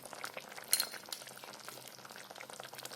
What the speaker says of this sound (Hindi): सब्जी को उबाल आ रहा है।